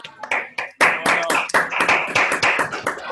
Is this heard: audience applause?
yes